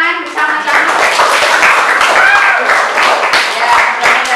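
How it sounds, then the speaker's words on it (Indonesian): A class claps together during a lesson, a burst of rapid, overlapping hand claps close by, with voices and chatter mixed through it. "kita tepuk tangan bersama-sama"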